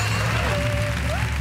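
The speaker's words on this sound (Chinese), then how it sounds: "掌声鼓励" An audience at a Taiwanese variety show claps with a dense, loud, continuous wash of applause, with a steady tone and some crowd voices mixed in.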